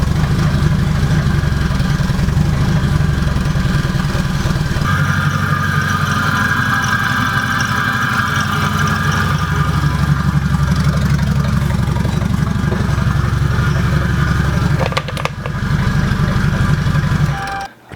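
A Toyota Supra MK4 engine idles loud and steady, a rough continuous low rumble with a brief dip near the end, no talking.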